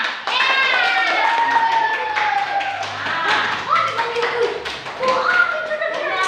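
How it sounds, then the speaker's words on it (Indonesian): A classroom group claps hands together in an Indonesian school lesson on traditional dances, with children's voices and chatter mixed over a steady, close patter of claps throughout. "Oke, tepuk tangannya."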